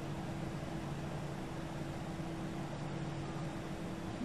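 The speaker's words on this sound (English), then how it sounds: "This is the sound of PTU." A steady mechanical whine from an Airbus A320 hydraulic power transfer unit in a flight simulator game hums over a broad rumbling noise, constant and unbroken throughout, like machinery running inside an aircraft.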